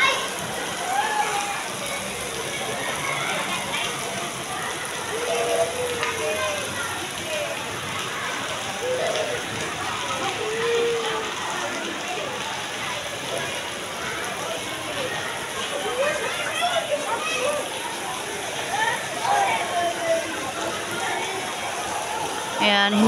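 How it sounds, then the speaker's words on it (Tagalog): Heavy rain falling in Cebu City outside a school, a dense, steady hiss with close patter and drips, and people talking over it throughout. "is maulan ngayon dito sa Cebu"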